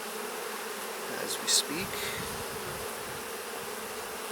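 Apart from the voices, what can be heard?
honey bees around an open hive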